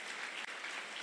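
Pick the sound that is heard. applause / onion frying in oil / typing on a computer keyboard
applause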